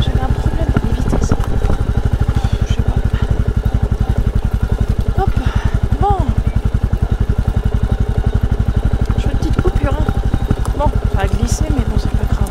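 Motorcycle engine running steadily while riding slowly, a rapid, even low-pitched pulsing throughout, close and loud, with a rider talking over it and a gear-shifting problem noted.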